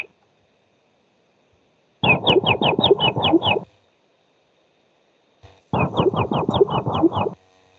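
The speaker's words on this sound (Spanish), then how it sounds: "Escuchemos el pajarito normal." Recorded bird call played back over a speaker, two bursts of about seven rapid repeated chirping notes each, separated by a pause, loud and clear against silence.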